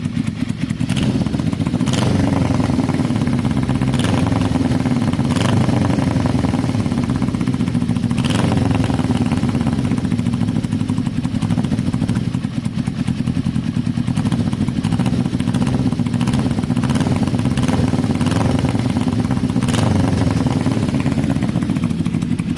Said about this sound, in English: it's idling nice, but it just has that blip every now and again, and it cuts off